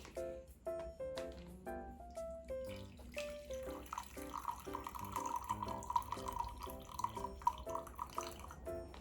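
Water splashes and drips steadily into a sink as it is drained from cooked noodles, with light clinks and a trickling, running-water sound throughout.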